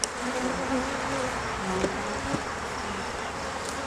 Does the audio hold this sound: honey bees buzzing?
yes